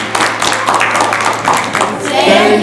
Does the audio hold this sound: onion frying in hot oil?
no